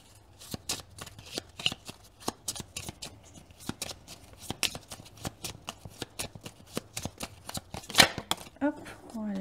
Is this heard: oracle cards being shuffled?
yes